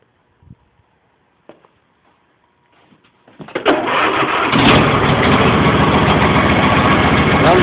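An old lawn tractor engine cold-started on full choke with no throttle: a few faint clicks and a brief crank, then it fires and settles into a loud, steady close-up idle.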